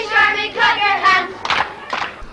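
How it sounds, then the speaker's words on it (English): A small group claps hands in time to a chanted anti-British Army slogan on a street in West Belfast, a few sharp claps alongside chanting voices. "If you hate the British Army, clap your hands."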